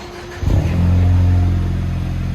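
A 2021 Ford Mustang EcoBoost turbo with a Magnaflow Magnapack exhaust, mid-muffler setup and rear delete, idling then blipped into a sharp rev that settles into a loud, steady droning hum.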